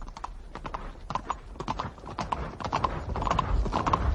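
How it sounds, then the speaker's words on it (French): A horse galloping off in an audiobook sound effect, rapid rhythmic hoofbeats clip-clopping steadily and growing slightly louder as the pace builds. "Il serra les genoux et lâcha les guides à son cheval qui partit comme une flèche."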